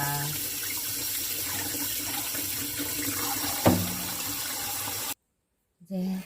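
Black carrots are rinsed under a running kitchen tap, the water a steady close hiss that suddenly stops and briefly resumes at the end.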